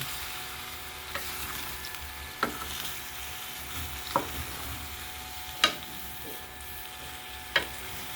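Pickle being stirred with sugar in a wok, a soft continuous sizzle broken by periodic scraping clacks of the spoon against the pan, close and fairly quiet.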